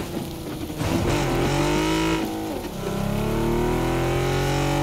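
A car engine in PUBG drives and revs in rainy weather, loud and close, with a steady droning tone that climbs and falls in pitch as it accelerates and shifts.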